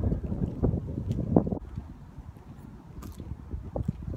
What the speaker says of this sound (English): It is pretty windy and cold here today.